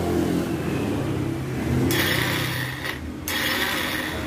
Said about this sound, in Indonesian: Nah, dia bunyi ya. Perhatikan. kita tombol starter, perhatikan.